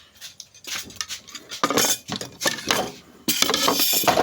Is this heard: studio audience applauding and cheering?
no